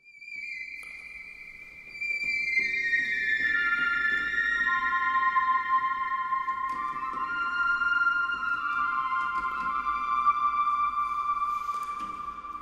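A Yamaha CS80 synthesizer plays a flute patch with some LFO movement, clear sustained tones gliding between held notes in a slow, simple melody, alone and fairly soft throughout.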